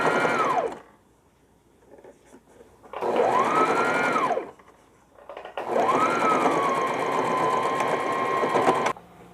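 A sewing machine stitching fabric for a beaded smocking potli bag runs in three bursts, a short one, then longer runs with brief pauses between, its whirring motor rising and settling, close and clear with no talk.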